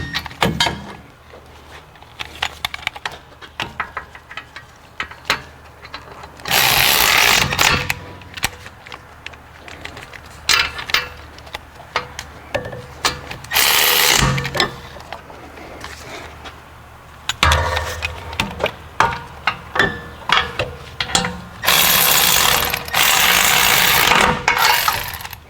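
A hand ratchet snugging rear wheel bearing bolts on an Acura MDX, repeated close bursts of rapid clicking separated by quieter pauses and small metallic handling noises.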